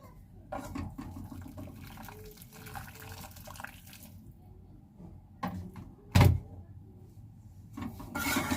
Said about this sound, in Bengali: কড়াটা ধুয়ে নেব এই জল দিয়ে, গরম জল দিয়ে।